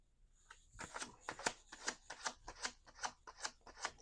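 Tarot cards being shuffled by hand, a quick series of about nine crisp riffling bursts in a steady rhythm, close and fairly loud, with no talking.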